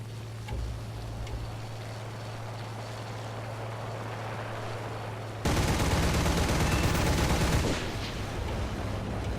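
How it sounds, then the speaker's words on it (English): Aircraft cannon fire from an F1 jet in a flight combat video game: a continuous low rumble of engine and ambience, then a loud sustained burst of rapid cannon fire for about two seconds before the steady background returns. "The cannon is really good on this F1. You get in close, you can just blast them."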